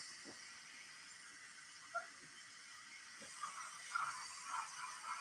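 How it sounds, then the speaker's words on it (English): A Bachmann Margaret NG7 digital model steam locomotive gives off a faint, steady hiss of simulated steam, with a few soft clicks and puffs rising near the end, no talking. "It's a serious head of steam."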